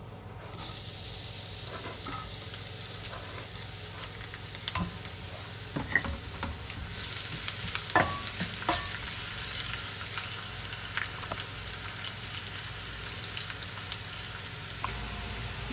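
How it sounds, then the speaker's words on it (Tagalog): Garlic sizzles in a pan over medium-high heat for Filipino squid adobo, a steady close frying hiss with occasional light ticks and stirring scrapes, and no talking. "Una po natin igisa ang bawang hanggang sa mag golden brown."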